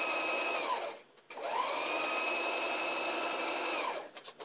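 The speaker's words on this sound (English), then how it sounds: "Now I'm going to sew down this one." A sewing machine stitches a quilt block in a steady, close, continuous whir that pauses briefly once and then restarts, with no talking.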